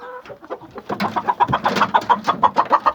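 An ash-grey hen, a pure-bred Aseel-type bird, clucks in a steady run of short, repeated calls, close and clear, rising into a rhythmic series toward the end.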